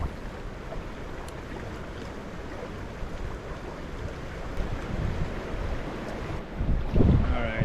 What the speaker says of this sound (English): this wind's starting to get to me.